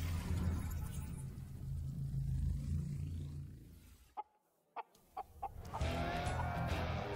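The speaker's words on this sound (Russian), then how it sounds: "Петух." A rooster crows in a video game trailer, a loud strutting cock-a-doodle-doo over a rumbling bed, then a near-silent gap with a few sharp clucks and taps before heavy sound returns.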